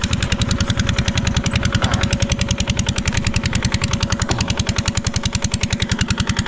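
Small engine running in a rice field, a loud close chugging putter with a fast, even firing rhythm that holds steady throughout, with no voices.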